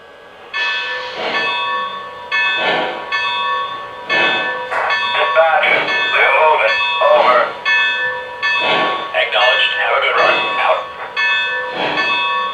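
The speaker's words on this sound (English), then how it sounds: "The bell turns on automatically." Bell of a Lionel LEGACY 2-6-6-2 Mallet model locomotive ringing in repeated bright metallic strikes at a steady rhythm, clear and close, with layered ringing overtones throughout.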